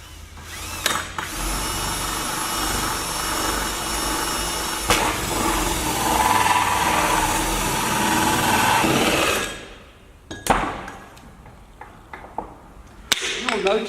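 A power tool whines steadily while cutting a hole through a panel, loud and sustained for about nine seconds before stopping, followed by a few clunks and handling noises with brief talk.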